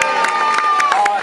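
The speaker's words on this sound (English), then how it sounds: "please show it with a huge clap and a cheer" A street show audience claps and cheers, a dense wash of applause with whoops and shouts rising over it, loud and continuous throughout.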